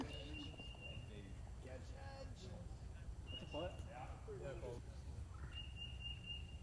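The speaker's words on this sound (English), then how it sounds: "That bird is loud." A loud dove-like bird calls repeatedly on a wooded disc golf course, its coos rising over steady outdoor ambience and intermittent voices of players talking nearby.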